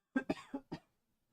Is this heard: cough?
yes